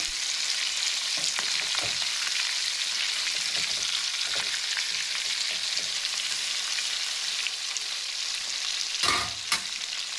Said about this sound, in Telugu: 2 వైపులా తిప్పుకుంటా అలా 2 టైమ్స్ మనం ఫ్రై చేసుకోవాలి.